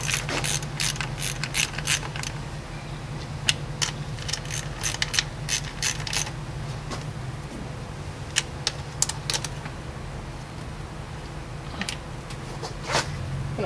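Ratchet wrench clicking steadily as valve cover bolts are snugged onto a plastic valve cover on a 2001-2005 Honda Civic, close and fairly loud in repeated bursts of rapid pawl clicks with a low hum behind.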